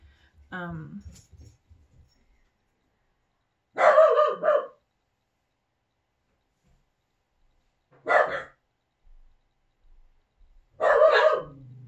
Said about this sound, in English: my dogs are barking at someone, and that's their emergency bark, like security bark.